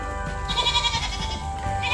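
Goats on a homestead bleating close by, a drawn-out wavering call over steady farmyard background noise.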